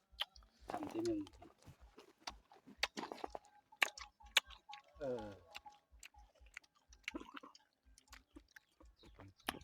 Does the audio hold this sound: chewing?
yes